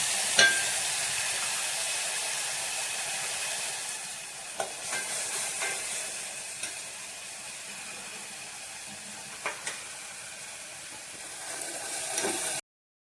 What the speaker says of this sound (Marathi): आता हा मसाला वाटला होता ना आपण नारळाचं दूध फ्राय करून घेतो